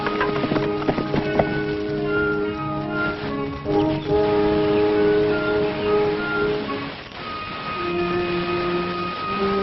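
Horses ride through a forest, their steady clip-clop hoofbeats running beneath loud orchestral music for the whole stretch.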